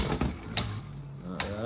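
Beyblade Burst spinning tops whirring and clattering in a plastic stadium, with two sharp clacks of collision standing out over the steady spin.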